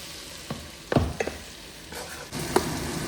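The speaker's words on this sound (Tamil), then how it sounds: "காளான் நல்லா வதங்கி வரும்." Mushrooms sautéing in a pan at home, a soft, low sizzle broken by a few scraping stirs, quiet and close with no talking.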